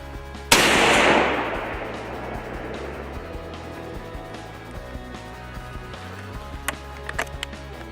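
A deer rifle fires a single loud, close shot at a 100-yard range, with a long rolling echo trailing off, then quiet with a few small clicks.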